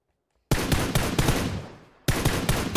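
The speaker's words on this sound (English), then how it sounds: "Just somebody shooting from north with an SKS." Rapid SKS rifle fire rings out in PUBG on console, a loud burst of closely spaced shots that fades out and then breaks into a second sharp volley.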